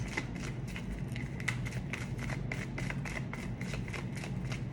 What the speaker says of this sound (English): One more card for my Scorpios.